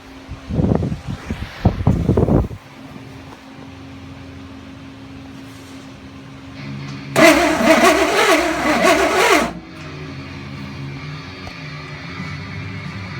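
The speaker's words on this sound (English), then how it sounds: "then we're going to crank the engine over, see if it's making a spark" An engine being cranked over on its first start attempt after cam break-in, testing for ignition spark: a loud mechanical churning burst of about two seconds, preceded by a few sharp clanks and followed by a quieter steady hum.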